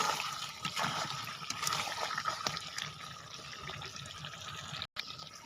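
Water poured into a pot of chicken curry, a steady splashing, trickling pour heard close and fairly loud for several seconds, with a brief break near the end.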